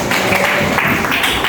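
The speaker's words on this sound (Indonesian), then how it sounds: "Tepuk tangan dong." A short burst of dense, close applause from a school class of students fills the room.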